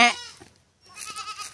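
A goat bleats loudly up close in a short burst, then after a brief silence a second quieter, wavering bleat follows from the same animal.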